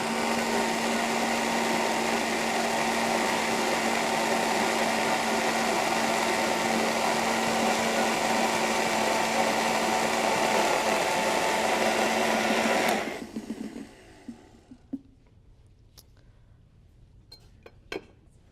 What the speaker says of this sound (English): this is a lot of volume for the blender to do